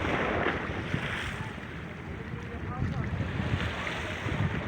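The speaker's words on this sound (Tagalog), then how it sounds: "Ayun guys, papalaot na yung mga mangingisda." Fishing boats head out to sea amid a broad rush of wind and surf, with steady engine and water noise and heavy wind buffeting on the microphone.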